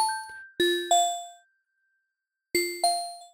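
Synthesized bandura string plucks made in FL Studio, two pairs of bright bell-like plucked tones with ringing, decaying overtones, separated by a second of silence, clean and close.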